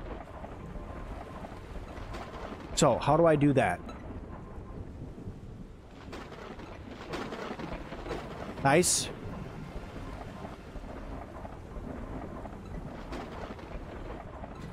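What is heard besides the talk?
thunderstorm with thunder and rain in the Drill Deal video game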